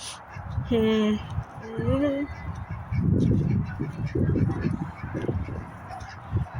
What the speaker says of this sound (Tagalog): May mga kalapate, may bibe, may manok.